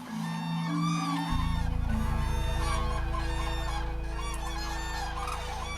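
A large migrating flock of geese and cranes in noisy squabbling, a dense, continuous chorus of honking and trumpeting calls close by, with a steady low drone running underneath throughout.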